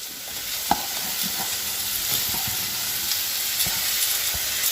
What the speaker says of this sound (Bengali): তো এখন ফুলকপিগুলো দিয়ে দিচ্ছি